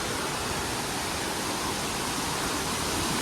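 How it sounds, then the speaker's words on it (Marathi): Varasgaon waterfall near Panshet dam, a steady, dense roar of falling water that fills the scene at close range with no break and no voices. "कसं आहे वॉटरफॉल"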